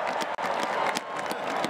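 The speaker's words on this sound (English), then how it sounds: "Let's give him another round of applause." A crowd applauds at a national championship parade and celebration, a short burst of loud, dense clapping with a few sharper claps standing out, lasting under two seconds.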